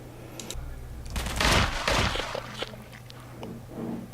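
Gunfire in a video game under development, a brief dense burst of crackling synthetic shots that swells for about a second, surrounded by quieter clicks and a low steady hum.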